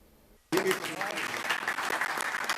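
Applause at the e-Naira digital currency launch ceremony in Nigeria, a sudden burst of many hands clapping that starts loud after a quiet moment and continues as a dense, steady ovation.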